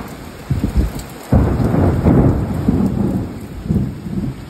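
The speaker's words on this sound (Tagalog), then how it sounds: "pag-ulan gaya nito" Heavy summer rain falls steadily on surfaces while thunder breaks in with a sudden loud crack and then rolls on at length, all loud and near.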